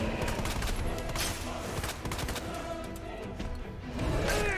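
Gunfire in Resident Evil 2, a shotgun among other weapons, fires as a series of fairly faint shots under a chaotic game mix, with a player's voice mixed in.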